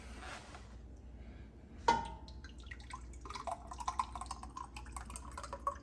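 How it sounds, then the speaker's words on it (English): Juice poured into a cooking pot while making slow-cooked carnitas, a thin liquid trickle that starts sharply and then dribbles and drips on, close and fairly quiet. "And then we're gonna throw in some of this juice."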